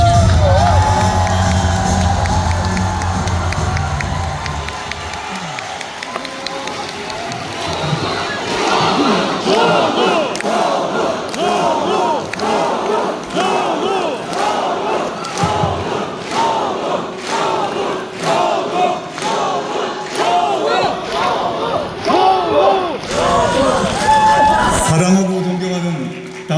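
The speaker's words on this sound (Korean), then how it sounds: "여러분 다시 한번 힘찬 박수와 함성을 보내주시기" Thousands of party members cheering, whooping and shouting at a party founding convention in a large hall. The roar builds into rhythmic chanting and clapping, and an announcer's voice is heard over the crowd at the start.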